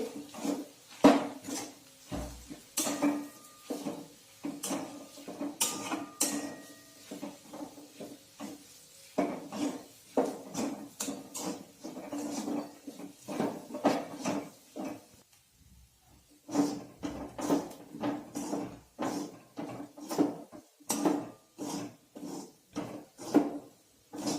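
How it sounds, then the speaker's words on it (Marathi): Peanut chutney being stirred and sautéed in a pan, with repeated scraping and clinking of a utensil against the metal in an uneven rhythm, close and moderately loud, with a short pause midway. "आता हे व्यवस्थित परतून घ्यायचं आहे।"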